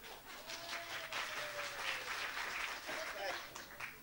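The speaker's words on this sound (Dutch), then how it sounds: "Dat geklap, jullie hebben pijn in je hand of zo." Audience applause at an awards presentation, a steady, fairly faint patter of many hands clapping with light voices mixed in beneath.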